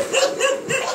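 Four puppies in a temporary mesh-fenced enclosure yap in a quick run of high, close barks, three bursts in about a second, with no talk.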